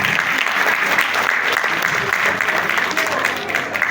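Sustained applause from a live audience at a Punjabi-language stage gathering, dense steady clapping filling the room throughout without a break.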